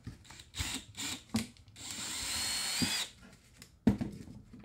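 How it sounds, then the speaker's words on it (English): Power drill working, several short bursts of whirring followed by one long continuous run of about a second and a half, close and fairly loud, with knocks and handling sounds between. "And I'm just gonna finish drilling this."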